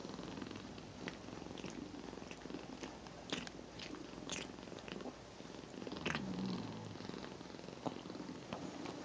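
A cat purrs close up while grooming, with a steady rumbling purr and soft licking and nibbling sounds over it.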